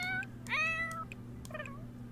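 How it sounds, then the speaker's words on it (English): Two soft, high-pitched meows from a cat in The Sims 4 video game, the first longer and rising, the second shorter, over a low steady electronic hum. "That is a cute meow."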